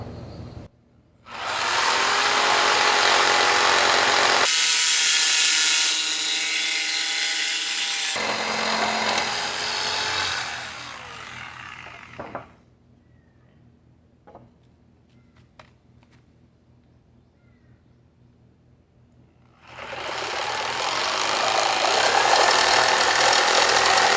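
Jigsaw cutting through wood blocks, loud buzzing bursts with a short pause between cuts, then quieter handling and tapping sounds before the saw starts up again near the end.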